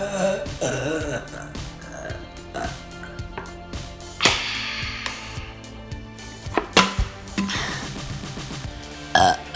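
Repeated burping during a burping challenge, several loud close belches scattered through the clip amid background noise and brief voices.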